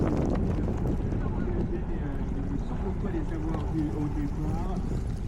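Strong wind buffets the microphone at an outdoor cyclo-cross race, a steady, loud roar throughout with faint voices underneath.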